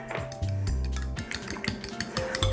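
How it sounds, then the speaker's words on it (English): Three eggs are beaten in a bowl with quick, irregular clinks and taps of utensil against dish, close and steady for a couple of seconds, over a faint tonal background. "But I've got 3 eggs. I'm going to beat them up a little bit."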